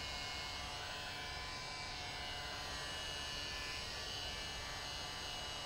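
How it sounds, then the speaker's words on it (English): Constant broadband whooshing roar of a hair dryer blowing on an acrylic painting, steady and unbroken throughout, fairly faint with no voices. "I'm just hitting this a little bit with the dryer"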